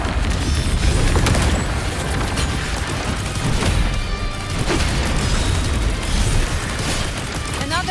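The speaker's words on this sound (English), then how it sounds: "Another mortar thrown at us." Mortar explosions in the video game Wuthering Waves, dense booming blasts layered over loud continuous battle noise and music, with a cluster of heavy impacts early and more bursts recurring throughout.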